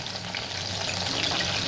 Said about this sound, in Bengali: এই রকম উল্টে পাল্টে সবগুলো নিউট্রিলা ভালো করে ভেজে নেব।